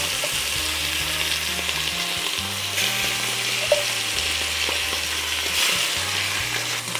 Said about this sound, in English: Once that's hot enough, we're gonna come in with our short ribs and we're just gonna be browning them.